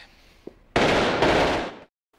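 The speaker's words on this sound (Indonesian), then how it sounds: "Tiba-tiba terdengar suara tembakan" A sudden loud blast of noise bursts in and holds for about a second before cutting off, preceded by a faint click in a quiet room.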